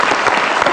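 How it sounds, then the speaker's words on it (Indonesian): Brief, loud burst of studio audience applause on a television talk show, dense clapping sustained through the whole short moment with no voices over it. "Kita kasih tepuk tangan Dedi Miing Gumelar"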